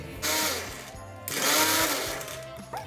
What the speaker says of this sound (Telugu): ముందుగా పెసరపప్పుని మనం గ్రైండ్ చేసుకుందాం